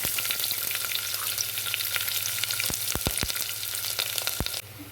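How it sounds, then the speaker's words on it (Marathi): Onion sautéing in a pan with whole spices, a steady close frying hiss with a few sharp spoon taps near the end. "कांदा परतवून झाला"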